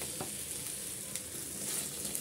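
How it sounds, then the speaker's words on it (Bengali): Thin potato slices fry in hot oil with a steady, quiet sizzle and light crackle, plus an occasional faint stir. "আলুগুলো আমি এই তেলে ভেজে নেব"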